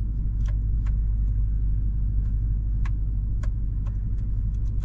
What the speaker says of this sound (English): generation that's a little bit noisier with the crawl control